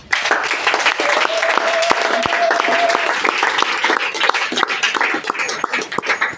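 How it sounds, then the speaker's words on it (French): Church congregation loudly applauding and cheering during a service, sustained dense clapping with shouts and a held voice rising through it, close and continuous. "Est-ce qu'on peut acclamer le Seigneur?"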